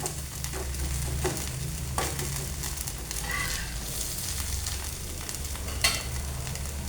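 Dosa batter crisps on a hot griddle over a medium flame with a continuous loud sizzle and crackle. A few soft scraping strokes break through the hiss.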